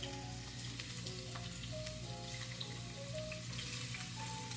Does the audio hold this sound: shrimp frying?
yes